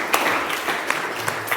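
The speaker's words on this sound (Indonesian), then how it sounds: "Kita kasih tepuk tangan untuk teman kita." Classroom applause as students clap for a classmate, a brief patter of mixed hand claps at moderate level with a few sharper individual claps standing out.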